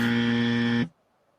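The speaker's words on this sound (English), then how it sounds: "Where's that buzzer?" A quiz game show buzzer gives one loud, steady electronic buzz that lasts under a second, then cuts off sharply into near silence.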